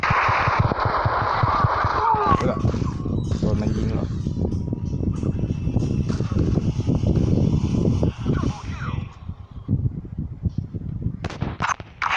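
Gunfire with recoil in the video game Crisis Action, loud, dense bursts of shots and rumbling game effects up close, with voices talking over the action.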